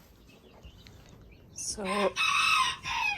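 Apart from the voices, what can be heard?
bantam rooster crowing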